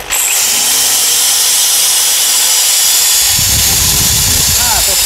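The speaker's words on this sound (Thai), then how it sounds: "เดี๋ยวผมจะทดลองสว่านดูก่อนนะครับ" An electric drill powered from a hybrid off-grid inverter whines steadily at a high pitch, starting abruptly and running loud and continuous, with a low rumble joining toward the end.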